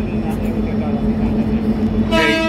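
A long train rolls past at Siliguri railway station, its steady, loud rumble filling the clip, with a horn blaring briefly near the end and a voice faintly beneath.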